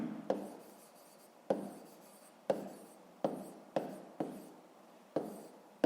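Chalk or marker strokes on a board while working a fifth-grade maths exercise on powers of ten, coming as seven sharp taps spaced about a second apart, each trailing into a short scratchy rub, close and fairly quiet with no talk.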